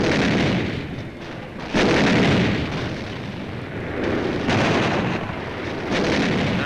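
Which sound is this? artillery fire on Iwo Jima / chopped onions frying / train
artillery fire on Iwo Jima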